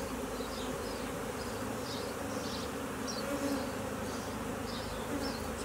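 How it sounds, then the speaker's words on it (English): Dense, steady buzzing of many honeybees during a HiveIQ beehive inspection, a close and continuous hum with individual bees flitting past at intervals. "look at all those bees surrounding her."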